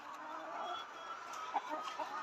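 Highland Brown layer hens cluck softly in the background on a layer farm, a few short calls rising over a steady ambient hum, fairly faint and distant.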